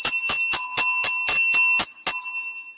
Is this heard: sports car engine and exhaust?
no